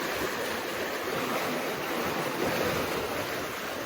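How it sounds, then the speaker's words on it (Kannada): Water rushes continuously through a lake outlet channel, a steady, dense broadband roar with no breaks and no voices. "24x7 ನೀರು ಹಿಂಗೆ ಹರ್ಕೊಂಡು ಹೋಯ್ತಾನೆ ಇರ್ತದೆ"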